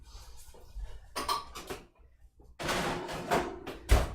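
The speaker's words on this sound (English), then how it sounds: "I'm going to toss this in my oven" A cheese-topped bread dish goes into a kitchen oven with short clanks of metal and a rack or door bumping, then a louder rattling scrape and a final thud, close by with no talk.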